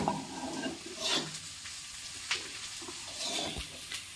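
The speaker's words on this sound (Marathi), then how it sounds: "कांदा तेल आणि मिरची याची फोडणी दिलेली आहे" Onion and green chili tempering in hot oil at a village home, a quiet continuous sizzle with a few stirring scrapes and clicks, no talking.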